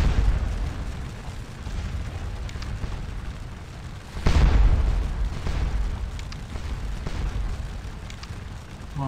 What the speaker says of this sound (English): Oh man, this artillery is doing damage!